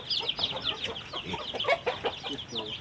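Several chickens cluck and chatter in quick, overlapping bursts, moderately close, with a faint background murmur.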